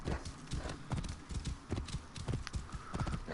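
Horse hooves in Assassin's Creed Origins clatter in a quick, continuous gallop, a rhythmic clip-clop close by and moderately loud.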